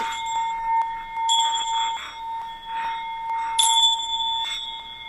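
A gong struck during a live meditation session rings out twice with long, shimmering, sustained overtones, each stroke blooming then slowly decaying over a soft bed of lingering tones, with no voices.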